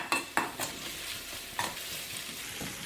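Carrots and other vegetables sautéing for chicken upma, a steady sizzle punctuated by a few sharp spoon-scraping stirs against the pan, close and clear.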